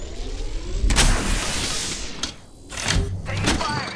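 Gunfire in the Apex Legends Mobile video game: several sharp, loud shot bursts with rumbling tails, spaced a second or so apart, with a voice in the background.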